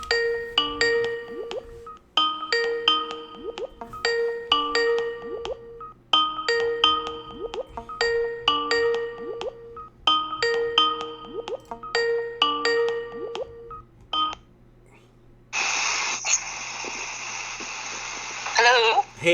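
A phone call rings out in a repeating pattern of electronic tones, about eight evenly spaced ring bursts close and clear, followed by a hissy burst as the line connects.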